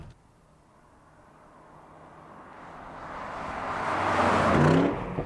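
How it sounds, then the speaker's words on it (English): A Porsche Cayenne GTS's retuned exhaust note swells from a low hum into a loud rising roar as the SUV accelerates past, then drops away at the end. "The exhaust has also been retuned, so though it shares the same fundamental engine with the Turbo"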